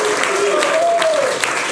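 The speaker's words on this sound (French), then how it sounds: "Avec un public merveilleux, on peut encore l'applaudir d'ailleurs" A studio audience at the French talk show Bistro Liberté applauds as the programme closes. The clapping is a steady, even wash throughout, with a thin tonal line, like a voice or whistle, drifting above it.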